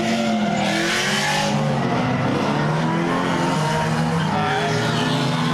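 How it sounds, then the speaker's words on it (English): Cars drift at Palm Beach International Raceway during a birthday track event. Loud, continuous engine roar and squealing tyres blend together from a distance without a break. "A lot of drifting happening."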